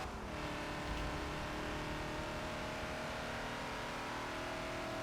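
Ford Falcon XB engine in Forza holding fourth gear at Road America, a steady mid-pitched drone with slowly rising revs, continuous and loud for about five seconds with no talk.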